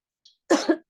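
A single close, sharp cough with a throaty two-part burst, preceded by a faint brief click, in an otherwise silent room.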